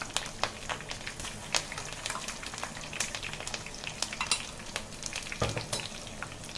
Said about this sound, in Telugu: అల్లం వెల్లుల్లి పేస్ట్ వేసుకుందాం